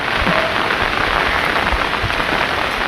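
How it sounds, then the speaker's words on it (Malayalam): Heavy rain falling during a rambutan harvest, a loud, dense and steady hiss of drops on surfaces that fills the whole clip, close by and with no speech. "മഴ പെയ്തുകൊണ്ടേ ഇരിക്കുകയാണ് കേട്ടോ മഴ പെയ്താലും ഞാൻ നിർത്തിയിട്ടില്ല"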